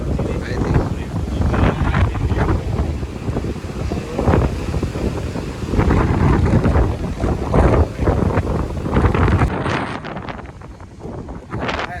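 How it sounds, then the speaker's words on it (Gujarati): Strong wind buffets the microphone in loud, continuous gusts, with a faint rush of the sea underneath. "જોરદાર પવન આવે છે"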